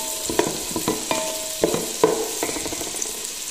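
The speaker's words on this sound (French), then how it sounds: "En premier, on met le beurre, ensuite," Onions frying in butter in a pan for Comorian spiced yellow rice, a steady soft sizzle broken by repeated scraping stirs and utensil knocks, close by with no talking.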